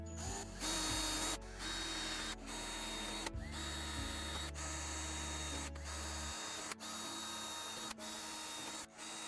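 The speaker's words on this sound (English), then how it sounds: "Got the pilot holes drilled," A nearby power drill whirs in several sustained bursts while drilling pilot holes in a computer case, its motor humming steadily and briefly stopping between runs; no talking.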